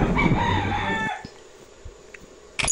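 A single rooster crow rings out loud and close for about a second, then fades to near silence with a faint click at the end.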